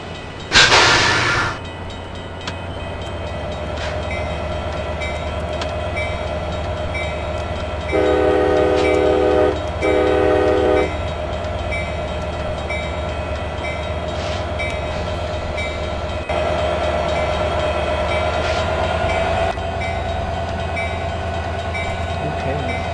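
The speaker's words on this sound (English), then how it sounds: "Amtrak Surfliner. We are now departing." Amtrak Surfliner passenger train departing in the Open Rails train simulator game, a steady engine drone with two short horn blasts partway through and a rising tone near the end, no talking.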